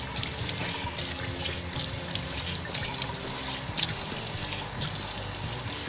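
Water runs from a sink tap in a steady, close gushing stream, pulsing slightly as it splashes into the basin, with no talking.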